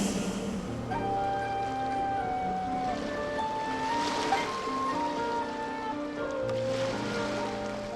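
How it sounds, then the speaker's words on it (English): Ocean waves wash steadily on a shore in the video game Genshin Impact, a continuous surf wash under soft sustained musical tones, with no talk. "Go to where you can hear the sound of the waves."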